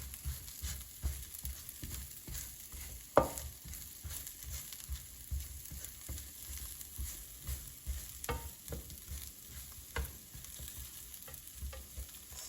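Cauliflower sautés in a pan with a soft, steady sizzle while a utensil stirs it, scraping and clinking at intervals, with one sharper knock early on; close and fairly quiet, without talk.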